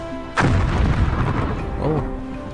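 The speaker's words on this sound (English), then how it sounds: "We've got 3 big bird defensive plasma cannons" Heavy plasma cannons firing in the real-time strategy game Zero-K, a sudden loud booming blast followed by a rumbling, ringing tail that swells again near the end, with some faint background game sound.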